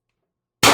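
A single sharp shot from a CO2 pistol firing 7.3 g Alien play ammo. It cracks close and loud after more than half a second of near silence, then rings out briefly.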